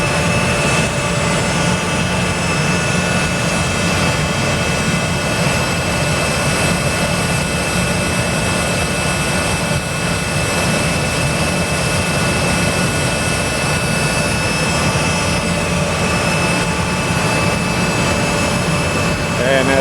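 NASA Crawler Transporter 2 at Kennedy Space Center revs its engines in a steady, loud, droning roar that holds without pause, with people talking over it at times.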